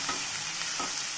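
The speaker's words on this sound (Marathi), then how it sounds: "त्याच्यामध्ये घालून घेऊया, छान मिक्स करून घ्यायचं." Momo filling with finely chopped ginger is stirred in a pan, giving a soft, continuous sizzle with faint scraping strokes close by.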